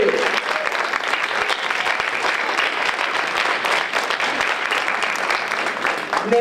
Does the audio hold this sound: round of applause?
yes